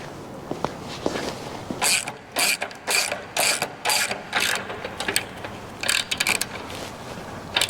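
A ratchet wrench snugs a bolt during a Detroit Speed suspension installation: several bursts of rapid, loud clicking, close up, with short pauses between strokes.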